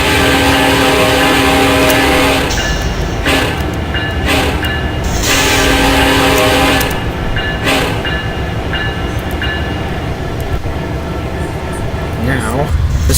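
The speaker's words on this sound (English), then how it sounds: "Listen to the horn on this thing now." A diesel locomotive horn in the Open Rails train simulator game, on a Union Pacific train over Cajon Pass, sounds in loud sustained chord blasts over steady engine rumble, with several short and long blows.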